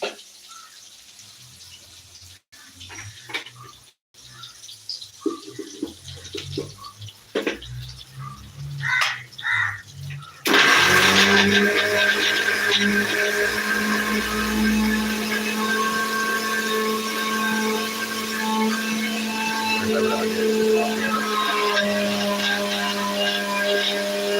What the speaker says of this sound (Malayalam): ഇത് മിക്സിയിലിട്ട് റെഡിയാക്കും